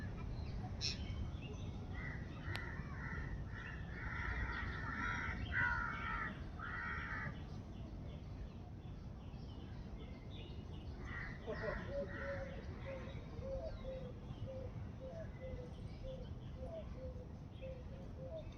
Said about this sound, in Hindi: सुनो पक्षियों के मधुर गीतों को।